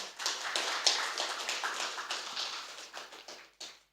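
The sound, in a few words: audience applause at a seminar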